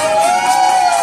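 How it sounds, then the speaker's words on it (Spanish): Audience at a karaoke contest applauding and cheering to vote for a contestant, a steady wash of crowd noise and claps with a sustained tone running through it. "Si usted quiere que el participante número 3 se vaya gratis a Tijuana con el viaje pagado, dígalo con sus aplausos,"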